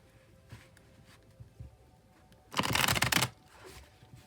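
A tarot card deck shuffled close up: light taps early on, then one loud riffling burst lasting under a second, followed by softer handling.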